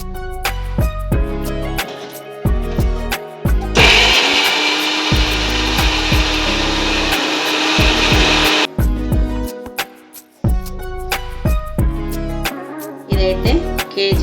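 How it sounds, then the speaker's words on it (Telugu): An electric mixer grinder whirs harshly for about five seconds as it grinds gongura leaves and spices for a chicken dish, set between stretches of tonal background music. "ఇప్పుడైతే మిక్సీ చేద్దాం"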